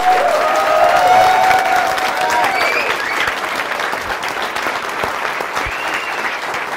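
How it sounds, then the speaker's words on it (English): A seminar audience gives a sustained round of applause, loud and dense clapping with a few cheers and whoops rising over it, steady throughout with no talking. "Let's give Jim Bellacera, our founder, CEO of Successful Thinkers, a round of applause"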